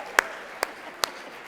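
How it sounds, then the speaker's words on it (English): A few sparse, sharp hand claps from the audience at the 2024 Morse Gala ring out one at a time, evenly spaced and moderately loud over a quiet room. "If you're rural, you're clapping at that."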